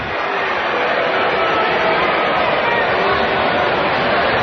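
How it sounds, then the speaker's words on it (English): Baseball crowd in a minor-league ballpark grumbling and booing at an umpire's foul-ball call down the first-base line, a steady dense roar of many voices throughout. "Crowd didn't like it"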